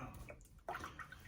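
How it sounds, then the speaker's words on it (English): Cold water splashing and rinsing a face after a shave with an Apollo Lite razor, soft close sloshes with a brighter splash burst partway through, quiet and near. "I'm actually rinsing in cold water."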